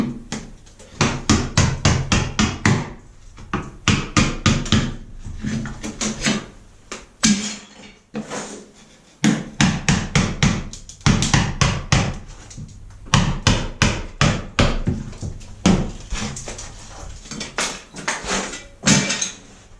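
Hammer and chisel knock old tiles off a bathroom wall, bursts of sharp close taps and cracks in irregular clusters, with short pauses between runs of strikes.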